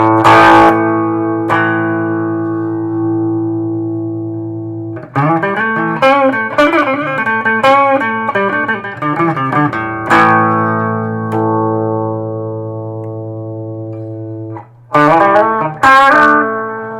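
Electric guitar with heavy distortion plays a riff, loud and close. Sustained chords are broken by quick choppy note runs and abrupt stops.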